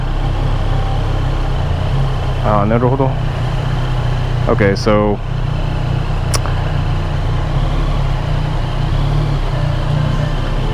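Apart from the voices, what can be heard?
motorcycle engine idling in traffic, Tokyo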